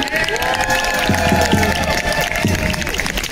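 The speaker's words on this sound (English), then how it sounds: "let's give a big round of applause because we're going to get our energy up for Awakening Thunder" A kids' Black Lives Matter march crowd claps and cheers at an outdoor gathering, a steady wash of applause with a few louder bursts running through the whole stretch.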